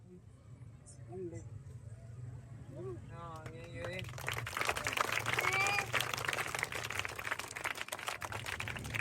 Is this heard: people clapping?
yes